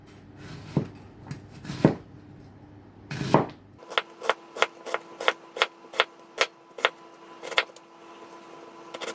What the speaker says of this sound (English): So the first thing we've got to do is cut up our onion